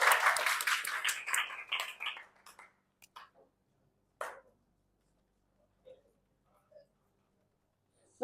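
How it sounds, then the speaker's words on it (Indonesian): A classroom claps for a student, a quick burst of hand clapping that thins out within a couple of seconds, followed by a few isolated taps and near silence. "Tepuk tangan dulu dong buat James"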